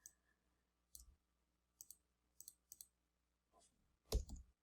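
A computer mouse gives several sharp, close clicks spaced apart in a quiet room as an icon is resized by clicking and dragging, ending in a slightly louder clatter.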